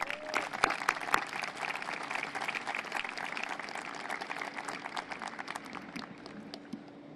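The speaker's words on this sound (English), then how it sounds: "Let's offer her a warm welcome and a round of applause." Audience applause at a press event announcing that the Chicago Cubs will host the 2027 MLB All-Star Game, with moderately loud, sustained individual claps from a modest crowd that taper off slightly at the end.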